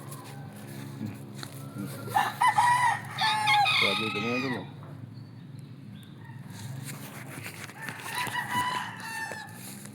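Gamecocks crow in two separate calls, the first loud and near, the second a little later and softer, with a voice talking briefly in between over a constant low background noise.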